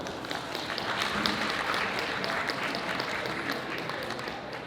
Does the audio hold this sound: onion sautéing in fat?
no